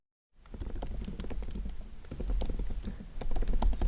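Typing on a computer keyboard, a quick run of light, close key clicks in an uneven patter that continues steadily for a few seconds.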